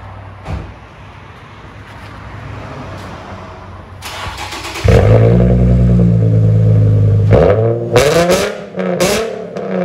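A Nissan 350Z with resonator and muffler delete starts up and revs hard, its loud raspy exhaust swelling into repeated blips and roaring rises at close range.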